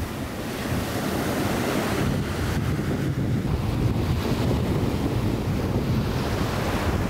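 Ocean surf breaking steadily on a rocky beach in Colombia, a continuous loud wash of waves mixed with gusting wind buffeting the microphone, with no voices.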